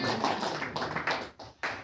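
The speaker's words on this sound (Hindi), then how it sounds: "ताली बजा करके परमेश्वर को।" Worship congregation clapping their hands in praise at a church prayer meeting, a dense burst of claps for about a second and a half, breaking off briefly and then resuming near the end.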